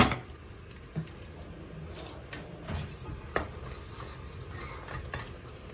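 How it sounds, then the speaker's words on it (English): Hot milk is stirred into a sauce in a pan over the flame for an Italian baked pasta, giving faint, soft scraping and stirring with a few light clinks from the utensil against the pan. "We quickly stir and add more milk."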